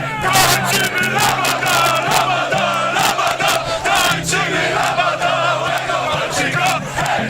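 A large crowd of Polish football fans chants and shouts together on Red Square in Moscow before a match against Senegal, a loud, continuous roar, voices overlapping steadily with some low droning sound underneath.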